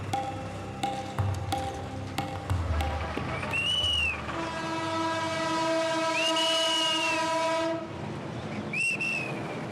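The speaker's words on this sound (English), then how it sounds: "The train, which is transporting Safiq the Imam and his pilgrims, is making slow progress towards Dhaka" A train carrying pilgrims rolls toward Dhaka, with clattering rail noise joined by long sustained horn or whistle blasts that rise and fall in pitch, loud and close, with no talking.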